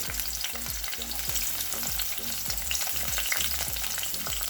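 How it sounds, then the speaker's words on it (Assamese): Banana flower frying in a hot pan gives a loud, steady sizzle, with repeated stirring scrapes at a regular rhythm throughout and no voices. "মই কলডিলটো ফ্ৰাই কৰিম, বনাম এতিয়া"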